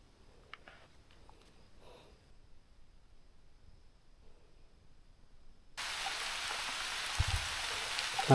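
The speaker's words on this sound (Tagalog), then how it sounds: "Patay, umulan na." Rain arrives during a typhoon-season summit hike on Mt. Napulauan in Ifugao. Several seconds of near silence with faint rustles give way abruptly to a steady, loud hiss of falling rain.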